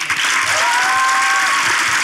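A studio audience applauds at the close of a Turkish talk show, producing a dense, loud, sustained wash of clapping with no speech over it.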